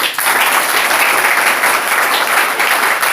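A church congregation claps loudly and steadily in praise, a dense, close wash of hands that fills the space without pause.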